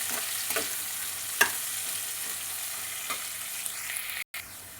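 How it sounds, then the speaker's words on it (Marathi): Onion frying in a pan until red, a steady close sizzle and crackle with occasional soft stirring strokes, briefly cut out near the end. "आता कांदा पूर्ण लाल करूपर्यंत भाजायचा"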